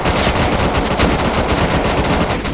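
Rapid automatic fire from an AK rifle in the video game Unturned, a loud, dense burst of shots sustained for a couple of seconds, with no voices over it.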